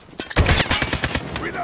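ASM-10 rifle fire in Call of Duty rings out as a rapid burst of close, loud gunshots in quick succession, with a brief sharp onset and a fading tail.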